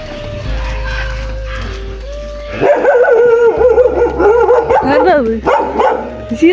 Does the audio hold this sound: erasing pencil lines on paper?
no